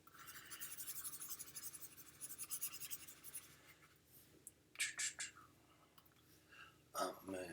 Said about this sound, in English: let me grab that eraser again